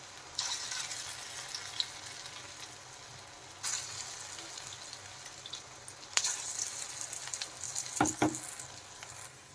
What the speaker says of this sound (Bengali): ছোটো ছোটো করে এখন বড়াগুলো দিয়ে দিচ্ছি